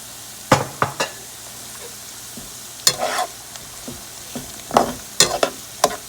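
Mushrooms tipped into a pan of translucent onions and garlic and stirred, with sharp intermittent clatters and scrapes of the utensil over a soft, low sizzle; no one speaks.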